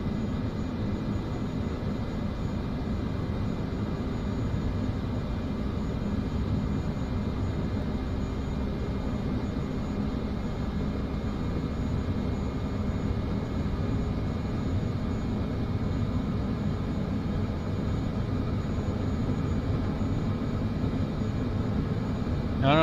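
A Caravan single-engine aircraft in Microsoft Flight Simulator 2024 holds a steady, droning idle-power engine hum as it rolls for takeoff without throttle. The tone stays constant and close throughout, with no voices.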